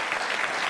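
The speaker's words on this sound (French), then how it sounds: "on l'applaudit, on l'applaudit, on l'applaudit, s'il vous plaît." Audience applause at a celebration, a dense, steady clapping from a crowd that fills the whole short moment at even loudness, with no voices on top.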